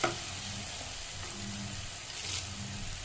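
Three green chilies fry in hot oil in a pan as they wilt for a Kerala-style curry. They make a steady, close crackling sizzle that carries through the whole stretch, with a low hum underneath.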